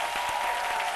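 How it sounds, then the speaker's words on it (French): A studio audience on a French midday TV show claps in a brief, dense burst that is steady and close. "Merci d'applaudir public, s'il vous plaît"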